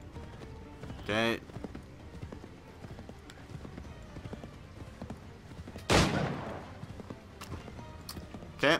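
Horse hooves and gunfire in the video game Assassin's Creed 3, set in Revolutionary-era America: a brief burst of shots early, a louder blast near the end and a final short crack over faint clip-clop, with someone talking briefly.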